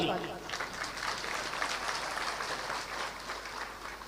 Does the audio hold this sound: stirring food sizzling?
no